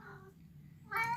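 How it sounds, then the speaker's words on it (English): A cat gives a couple of meows, a soft, drawn-out one at first and a louder, sharper one at the end, heard nearby. "sorry for the cat."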